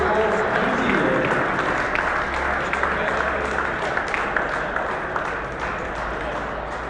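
An indoor cricket crowd at a gold final applauds New Zealand with sustained, loud clapping that slowly tapers, while an announcer speaks over the applause.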